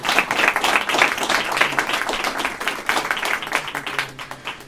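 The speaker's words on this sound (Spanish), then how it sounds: "me gustaría pediros un aplauso, tanto para ellos como para todos los que estáis aquí esta tarde." An audience at an afternoon book event gives sustained applause, with dense, steady clapping filling the room for about five seconds.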